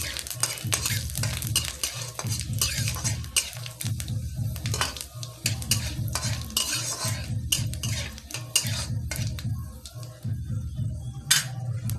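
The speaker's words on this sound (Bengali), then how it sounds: "ফোড়ন আমাদের ভাজা হয়ে গেছে" A metal ladle stirs and scrapes repeatedly in a pan as panch phoron spices fry in oil under a soft sizzle, with rhythmic clinks and no talking.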